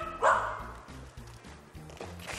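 A dog playing with people on a Turkish talent show stage gives one sharp bark near the start, then quieter yips and whimpers follow under low crowd and stage noise.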